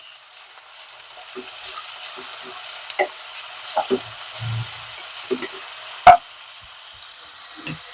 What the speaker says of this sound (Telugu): ఇక్కడ ఆనియన్స్ వేగుతూ ఉంటే